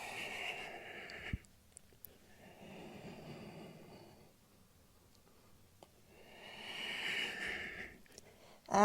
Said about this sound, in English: Activate Ujjayi breath